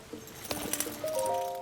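Horse hooves clip-clopping in a Zelda video game, a run of soft, uneven thuds with a steady musical tone in the background and brief chime-like notes.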